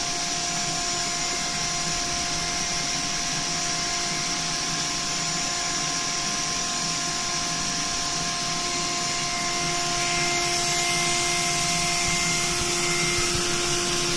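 A machine-shop machine runs steadily at 21,000 RPM with a feed rate around 110, giving a continuous loud whine with a few sustained tones. It rises slightly in level near the end, with no talk.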